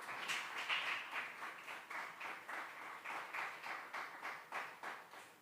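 A church congregation claps together in a steady, rhythmic beat during a Christian service, the even pulses of applause continuing at a moderate, somewhat distant level throughout.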